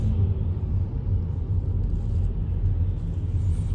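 A new Seat Leon 1.5 TSI car runs quietly from inside the cabin, a steady low engine and road rumble droning evenly throughout without voices.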